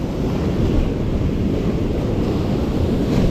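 Loud surf rolls in at Karasu beach on the Black Sea coast during shore fishing for bluefish. It makes a dense, continuous roar of waves and current, mixed with heavy wind buffeting on the microphone.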